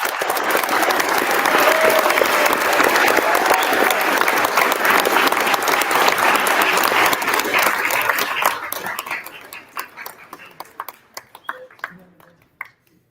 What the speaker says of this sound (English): Round of applause for our 10.